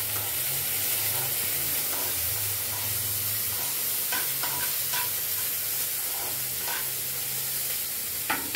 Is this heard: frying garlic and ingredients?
yes